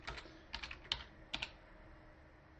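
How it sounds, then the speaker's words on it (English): Several short bursts of keystrokes on a computer keyboard, quiet and close, separated by pauses, typed into a trading platform chat. "I'll type that in the chat actually."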